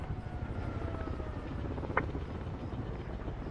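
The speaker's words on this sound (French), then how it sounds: "Drone ennemi au-dessus." An enemy drone flies overhead in the Call of Duty Warzone game, a steady low engine hum that holds for the whole stretch with one brief sharp blip midway.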